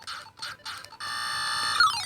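A steady electronic beep tone sounds continuously from an Atari Centipede Super Micro handheld, preceded by a few short tonal blips, with a falling sweep near the end.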